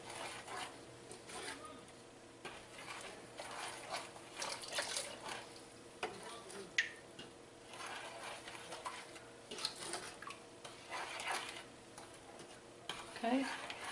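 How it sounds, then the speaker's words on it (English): A spoon stirs homemade barbecue sauce in a pot, giving soft, faint scraping swishes in an uneven rhythm against a low simmering background. "Stir this gently."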